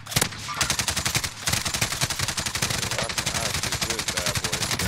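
An MG machine gun in Modern Warfare Warzone fires long sustained bursts, rapid evenly spaced shots close and loud, with a brief pause near the start before continuing steadily to the end.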